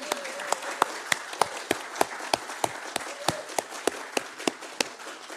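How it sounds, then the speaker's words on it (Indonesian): Audience applause at a press conference for the 2023 FIFA U-17 World Cup in Indonesia, a steady crowd patter of claps punctuated by regular sharp, loud close claps throughout. "Boleh berikan tepuk tangan yang meriah."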